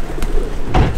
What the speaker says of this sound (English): the pigeons come towards him